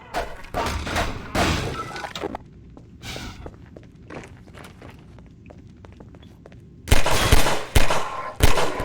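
Single shots from a gun in Half-Life 2: Episode 1, several loud sharp cracks spaced apart with quieter thuds and movement between them, ending in a burst of heavier impacts.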